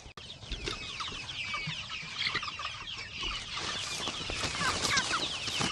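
Many chickens clucking inside a poultry farm house, a dense overlapping chorus of murmuring clucks and occasional sharper calls, steady and fairly close.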